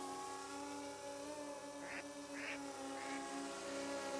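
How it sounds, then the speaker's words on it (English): Three short duck quacks ring out at moderate distance over a steady hum of a drone's motors and outdoor background noise, with no talking. "Quack, quack."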